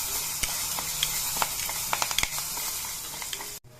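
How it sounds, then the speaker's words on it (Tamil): Green chillies, ginger and curry leaves fry in hot oil with a steady loud sizzle and scattered sharp pops and crackles, ending abruptly. "கொஞ்சம் லைட்டா வதக்கட்டும் பச்சை மிளகா"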